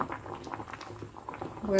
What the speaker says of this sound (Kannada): ಕುದೀತಾ ಇದೆ ಇವಾಗ ಸಾಕಾಗುತ್ತೆ ಇಷ್ಟು ಕುದಿ ಬಂದರೆ